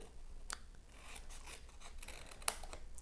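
Scissors trim an angled lip while a tissue box is being made, with a couple of crisp snips over quiet rustling and scraping close by.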